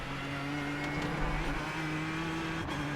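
A Ford GT GTE race car runs flat out in iRacing with a steady, droning engine note held at high revs. It is loud and close, with no talk over it.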